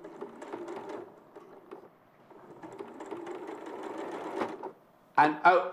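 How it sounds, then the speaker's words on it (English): A sewing machine stitches in short, rapid mechanical bursts separated by pauses, close and moderately loud, with a person speaking briefly over it. "carry on watching Joe sew"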